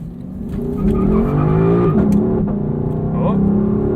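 A 2018 Lexus LC 500 accelerates, its engine tone climbing and dropping through gear changes, loud and close from inside the cabin, with a brief sharp sweep near the end and a voice audible.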